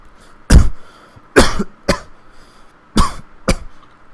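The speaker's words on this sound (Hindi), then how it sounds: "अच्छा सॉरी खांसी आ गई थी।" Five sharp coughs, close and loud, spaced irregularly with quiet pauses between them.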